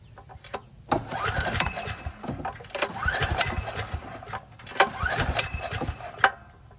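A Briggs or Subaru generator engine with the choke on is pulled repeatedly. Three recoil pulls each bring a sputtering crank that fails to catch, separated by rattling handling noise close by.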